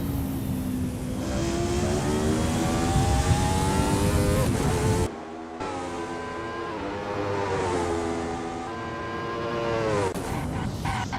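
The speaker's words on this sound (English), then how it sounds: "As the sun beats down and the engines roar, Lars stakes a claim in 6th." Race car engines roar in a racing video game at the Circuito de la Comunidad Valenciana Ricardo Tormo, a loud steady howl that climbs through gear shifts, drops sharply midway, then builds again.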